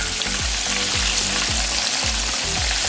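Catfish fillets deep frying in hot oil just after being flipped, a continuous dense sizzle and crackle with soft rhythmic bubbling pulses roughly every half second, close and steady with no talking.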